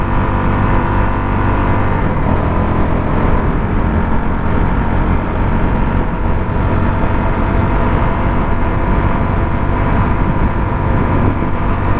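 A Honda CRF450 dirt bike on trails pulls hard under acceleration, its engine a loud, continuous close roar with a rising, revving note held for the whole stretch, no voices over it.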